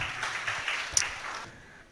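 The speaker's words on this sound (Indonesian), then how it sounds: "tepuk tangan untuk temannya" Brief applause from students for a classmate in a lecture hall on ruminant feed technology, a short scattered patter of clapping that fades out within a couple of seconds.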